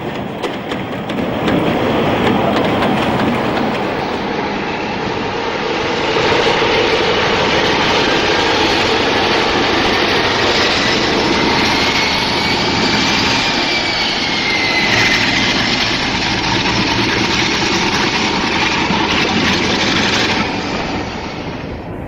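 British Rail Class 46 diesel locomotive 46045 roars loud and close in a sustained, heavy engine drone. The powerful throb holds steady for over twenty seconds, with no speech over it.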